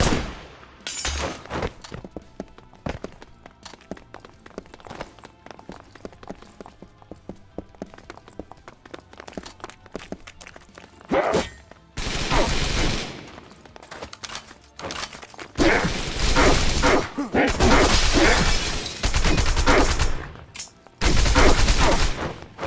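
Gunfire in the action video game Wanted Dead, with dense bursts of shots in the second half, loud and sustained over game music, after a quieter stretch at the start.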